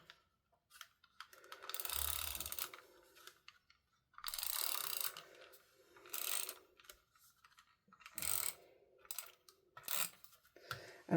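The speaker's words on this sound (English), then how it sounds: "I'm going to take my tape runner." A tape runner rasps and clicks as it rolls adhesive onto a card panel for a handmade card, in several short ratcheting strokes separated by brief quiet gaps, close and fairly quiet.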